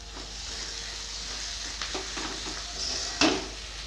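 Ginger paste hits browned chopped onions frying in a pan for homemade chicken tarka, giving a soft, steady sizzle with light stirring scrapes and a sharp utensil clink near the end, quiet and close, with no talking.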